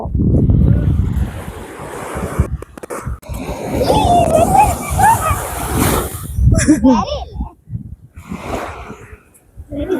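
Sea waves crashing and surging on the shore under strong wind buffeting the microphone, a loud continuous roar with swelling breaks, while people talk over it.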